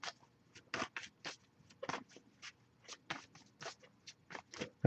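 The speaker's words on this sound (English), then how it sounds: "I'll give it a few more shuffles before we move on." Tarot cards being shuffled by hand, a string of quick papery riffles and taps in an irregular rhythm, close and fairly quiet with short pauses between strokes.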